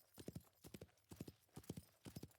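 Horse hooves clip-clop in a steady galloping rhythm in the New Frontier video game, grouped beats repeating evenly and fairly close, with no talk over them.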